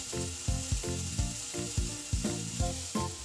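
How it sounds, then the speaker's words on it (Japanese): Chicken gizzards and thin-sliced green peppers are stir-fried in a pan, with a steady sizzle broken by rhythmic scraping strokes of the spatula, close and fairly loud, with no talk. "細切りにしたピーマンを加え一緒に炒めます"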